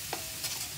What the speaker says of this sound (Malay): kita kacau, kita goreng sampai dia keperang-perangan deh